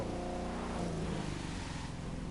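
A car in the racing video game The Crew 2 drives along with a steady, full engine drone that holds at a constant level throughout, with no voices over it.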